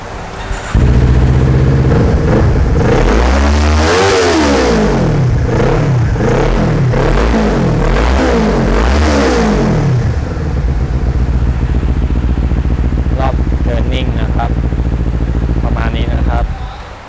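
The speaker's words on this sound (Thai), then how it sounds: "เดี๋ยวลองฟังเสียงเครื่องยนต์กันดูนะครับ" A 2019 Kawasaki Z400 motorcycle engine idles loudly up close, then revs up and down several times in rhythmic swells before settling back to a steady idle.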